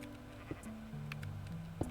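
A sheep in Minecraft bleats with a few short, thin game bleats under a steady low background hum, fairly quiet and with no talking.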